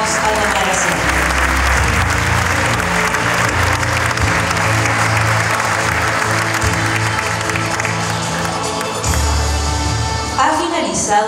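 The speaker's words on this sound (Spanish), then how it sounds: "Les brindamos un fuerte aplauso" An audience at a school graduation ceremony in Chile gives loud, sustained applause under a low hum of music, swelling again near the end as the crowd keeps clapping.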